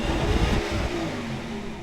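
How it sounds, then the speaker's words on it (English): A 2018 Rolls-Royce Phantom VIII's 563-horsepower V12 engine revs in a short, steady burst: a deep, smooth mid-low drone with a brief rise, heard close and alone. "It's a V12. Of course it is, providing 563 horsepower, 664 pound-feet of torque,"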